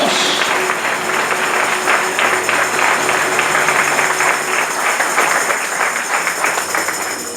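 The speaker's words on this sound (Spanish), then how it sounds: "Alguien está aquí y le da un aplauso al Espíritu Santo en esta hora." A church congregation claps steadily for several seconds, a dense, even wash of hand claps filling the room with a faint tone beneath.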